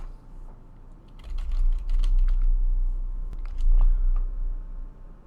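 Password being typed on a computer keyboard: a close, quiet run of irregular key taps in short bursts, with no talking.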